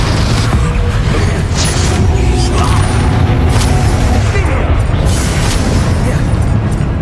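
Incendio fire spell cast in the video game Hogwarts Legacy, a loud, dense burst of roaring, crackling magical flame that stays steady and full throughout, with rumbling booms and no pauses.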